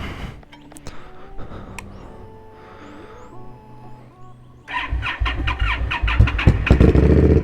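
A 2017 Indian Scout motorcycle starts from cold: a whirring starter and faint mechanical whine first, then the V-twin fires and surges into a loud, close, throbbing idle.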